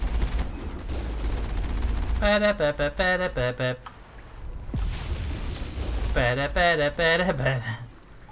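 Bursts of rapid automatic gunfire from the Mako vehicle in the video game Mass Effect, coming in two volleys of repeated shots with a low rumbling background.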